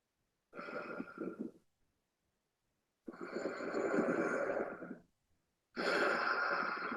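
Three slow, audible throat breaths drawn in during a breathing exercise, each a soft, raspy, constricted hiss lasting a second or two and separated by silence, close and quiet.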